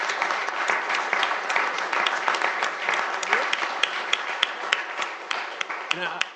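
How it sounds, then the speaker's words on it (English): Steady applause at a Sioux Falls city council meeting for an honoured man, with distinct individual claps throughout and a few sharper ones near the end. "Let's give Rich a round of applause."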